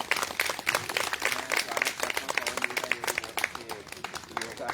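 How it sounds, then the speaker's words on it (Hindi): Audience applause welcoming a yoga teacher at a morning yoga class, a dense run of overlapping claps holding steady throughout, with voices calling out over it. "एक बार तालियां दो, स्वागत जोरदार तालियां"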